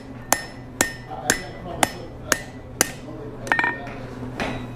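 Blacksmith's hammer striking a steel hook on an anvil edge, sharp metallic clinks in a steady rhythm of about nine close, loud blows with bright ringing over a low workshop hum.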